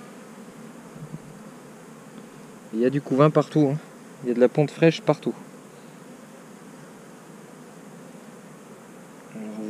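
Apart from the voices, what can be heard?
honeybees buzzing in an open hive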